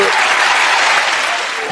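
Children in a daycare audience applaud at a puppet show, a dense, bright, continuous patter of many small hands clapping together, loud and close, easing off slightly toward the end.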